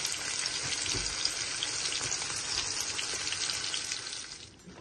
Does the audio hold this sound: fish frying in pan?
yes